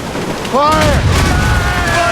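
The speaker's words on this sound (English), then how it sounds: "They're firing a volley!" A cannon volley fired from sailing warships in Assassin's Creed Rogue, heavy booming rumble breaking out mid-clip over a noisy battle scene, with a voice shouting and a high whistling tone.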